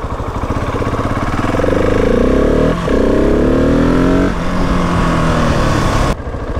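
A 2020 Husqvarna 701 SM supermoto with a fuel dongle installed revs hard and accelerates up through the gears for a wheelie, its loud single-cylinder engine note climbing, dipping at a shift, climbing again, then cutting off abruptly.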